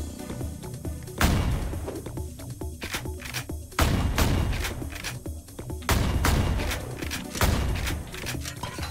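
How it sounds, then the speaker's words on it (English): Disperser shotgun rapid-fired in the video game Ion Fury, four heavy booming blasts spaced about two and a half seconds apart, each with a short echoing tail and lighter clicks and thumps between, loud and up front. "in a rhythmic pattern, you can rapid fire the disperser shotgun or the grenade launcher"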